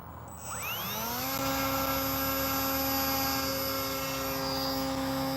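The electric motor of a ZOHD Dart RC plane spins up from idle into a rising whine that climbs in pitch, then holds as a steady loud drone close by.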